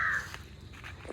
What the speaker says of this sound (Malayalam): കാക്കയൊക്കെ.